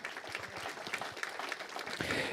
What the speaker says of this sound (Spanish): Dale el aplauso de gratitud al Señor